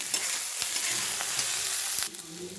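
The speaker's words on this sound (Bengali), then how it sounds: "দেখো রসুন পেঁয়াজ ভেজে নিলাম, এর সঙ্গে দেখো গোটা আলু" Garlic, onion and whole potatoes frying in a pan give a steady close sizzle with a few scraping stirs, easing slightly toward the end.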